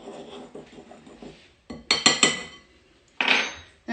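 A utensil clinks and scrapes against a bowl while brown sugar, salt and other dry ingredients are stirred for butter tart pastry, in soft rhythmic strokes followed by several louder taps close by.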